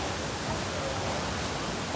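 Kelavali waterfall in Satara roars as a dense, continuous broadband rush of falling water, loud and steady throughout without pauses.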